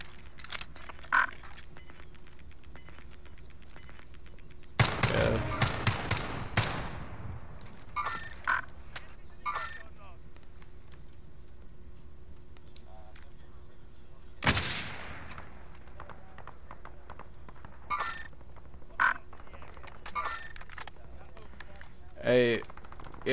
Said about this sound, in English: Like that guy I just shot at.